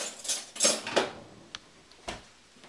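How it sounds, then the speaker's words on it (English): A big spoon scrapes and clinks against a dish while a panko-crusted bake is scooped into a bowl, giving a few soft scrapes followed by two sharp, quiet taps. "I'm going to scoop some up in a bowl. Get myself a big spoon here."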